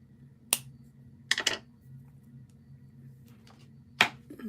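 Several crisp snips of scissors, spaced irregularly: one, then a quick pair, then another a few seconds later, over a faint low hum.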